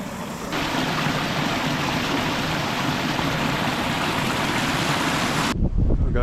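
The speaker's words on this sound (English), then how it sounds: "The waterfall is on and it is glorious." Water from a large backyard pond waterfall driven by a variable-speed pump pours in a loud, dense, continuous roar that fills the whole clip and cuts off abruptly near the end.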